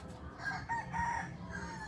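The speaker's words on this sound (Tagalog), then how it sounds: "Manok!" A rooster crows once over a steady background hum, its call moderately loud and drawn out over about two seconds.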